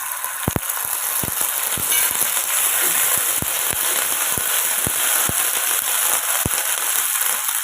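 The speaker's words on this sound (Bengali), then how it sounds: "দারুচিনি ও লবঙ্গ ফোড়ন দিয়ে দিলাম ভালো করে ভেজে নেব" Whole cinnamon and cloves, with cumin seeds, fry in hot oil for a vegetarian ridge gourd dish, giving a steady close sizzle broken by sharp, irregular pops and crackles, with no talking.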